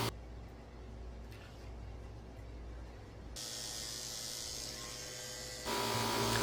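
Electric dog grooming clippers fitted with a 30 blade hum steadily and quietly while trimming a senior dog, growing louder and brighter partway through as the blade meets the coat.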